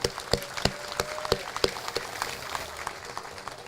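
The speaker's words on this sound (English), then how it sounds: "Let's clap for that, huh?" Sparse, scattered clapping from a small crowd at a gym ribbon-cutting ceremony, with individual claps standing out distinctly at first and then thinning into quieter patter.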